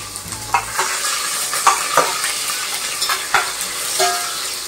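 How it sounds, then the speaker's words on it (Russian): Chopped peppers sizzle loudly in hot oil in a pan while being stirred for a Georgian ajapsandali, with a steady fry punctuated by several utensil scrapes and clinks. "как нарезали перчик, точно так же поштучно практически добавляем в масло. Все не добавляем, нам надо его обжарить, не тушить."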